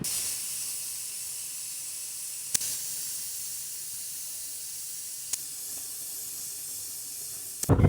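A pressure cooker on a low flame, cooking oats khichuri, lets out a steady, continuous hiss of steam. A few brief clicks break the hiss, with a louder burst at the very end. No one speaks.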